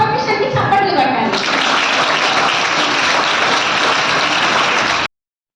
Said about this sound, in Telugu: సో ఒకసారి లా ప్రొఫెషన్ కి చప్పట్లు కొట్టాలి.